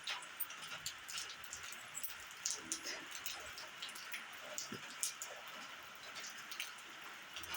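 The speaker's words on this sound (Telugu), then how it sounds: "ఇంకా వర్షం దగ్గర దగ్గర గంట నుంచి కురుస్తుంది ఇంకా కురుస్తూనే ఉంది" Rain falls steadily, quietly and at a distance, pattering on surfaces, with scattered sharper drips ticking through the constant hiss.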